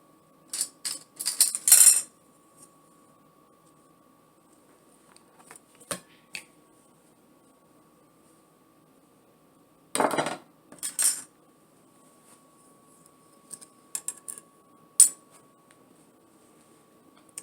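Silverware clinks and clatters as it is set onto a table while laying a pink tablescape, with a few short bursts of metallic clinking separated by quiet pauses.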